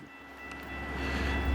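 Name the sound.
Metra commuter train arriving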